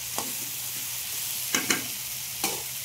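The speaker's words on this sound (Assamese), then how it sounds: "অকণমান লৰাই দিছোঁ" Vegetables and paneer fry in a pan with a steady sizzle, broken by a few short scrapes and clacks of a spatula stirring them, close and with no talk.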